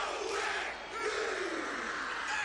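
A packed rugby stadium roars as the All Blacks perform the Haka against England, a dense continuous crowd swell with shouted chanting blended in, loud and distant-sounding, with no clear individual voices.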